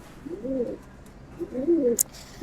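A pigeon coos nearby in two low, rolling phrases, with a short sharp click between them.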